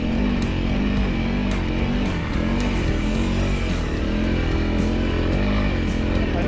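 A Honda CRF300L on stock tires labouring up a deep sandy track, its engine a loud, continuous drone with slight pitch wobbles and heavy wind buffeting throughout.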